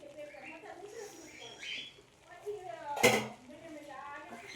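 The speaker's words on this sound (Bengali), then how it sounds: "আবারও আমি ভালো করে মশলাটা কষিয়ে নেব 5-6 মিনিট ধরে" Ground spices and dried red chillies fry in a pan for bhuna chicken, with a sharp metal clank of a spoon against the pan and faint stirring and sizzling beneath a voice talking close by.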